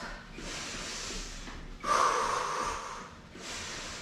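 During a beginner-level exercise workout, someone breathes heavily and close by: three long, loud, rasping breaths follow one another, the middle one a sharp gasp, with no talking.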